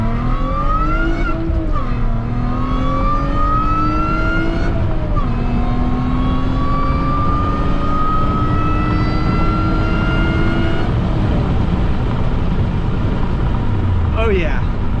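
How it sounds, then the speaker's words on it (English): A 2006 Acura TL fitted with a Comptech supercharger accelerates hard through several gears, engine pitch climbing steadily then dropping at each shift, loud and close throughout with faint talk underneath. "I like the way that supercharger sounds."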